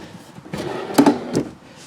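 A drawer in a 2022 Salem Cruise Lite 261BHXL travel trailer slides and thumps shut, giving a couple of short knocks and a rattle up close, with no talking.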